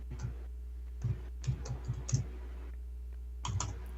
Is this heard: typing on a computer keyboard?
yes